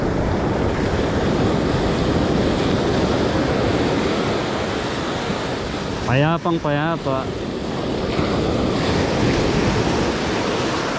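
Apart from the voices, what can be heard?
ocean waves on the shore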